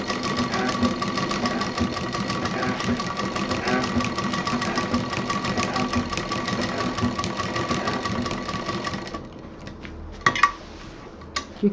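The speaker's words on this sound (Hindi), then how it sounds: "अब उसी पे बस हमको दोबारा मशीन चलानी है।" A sewing machine stitching a fabric table mat runs in a fast, steady mechanical whir close by, then stops with a few clicks and knocks.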